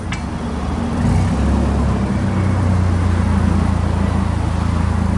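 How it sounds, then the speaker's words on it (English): A Hyundai HLF25C-5 cushion-tire forklift with an LP gas engine runs at a steady, smooth idle, a close, even rumble that rises slightly after the first second and holds constant. "Clean burning LP gas Hyundai engine."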